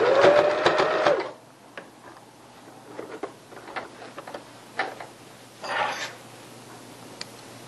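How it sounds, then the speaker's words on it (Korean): Sewing machine stitching a 1 cm securing seam through the pleats and interfacing of a curtain valance: a brief loud whirring run, then quieter ticks and rubbing handling sounds, and another short stitching burst near the end. "맞주름이 잡아놓은 부분에 심지까지 1cm 고정 박음질을 해놓겠습니다."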